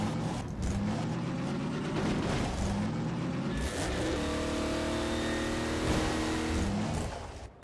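A car engine in Half-Life 2 Episode 2 revs loud and close, with a steady roar and rising, shifting tones held for several seconds before it eases off at the end.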